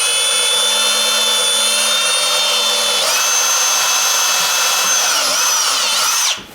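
A power drill whines steadily as it bores into hard old window wood, shifting pitch partway through as the bit bites deeper, then cuts off abruptly at the end.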